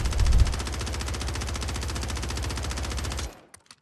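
An SMG in the Warzone video game fires one long continuous full-auto burst of rapid, evenly spaced shots, loud and close, then stops abruptly with a faint clatter after.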